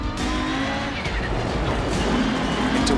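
Rally car engine in Dirt Rally 2.0 on a gravel stage, droning steadily at close range with a shifting engine note around a downshift, plus tire scrabble and skid noise, no talk.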